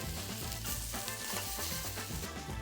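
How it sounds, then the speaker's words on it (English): Wagyu beef sizzles on a yakiniku grill at home, a steady, close, crackling fry running unbroken with no voices. "You can see from the side there how it's cooking."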